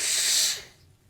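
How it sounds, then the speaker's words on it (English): One short, breathy sneeze close to the mic, a hissing burst that fades quickly into quiet. "But I got to sneeze."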